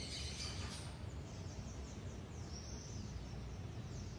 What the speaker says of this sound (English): You can even hear the birds in the background agreeing.